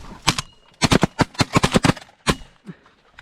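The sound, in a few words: gunshots while hunting pigeons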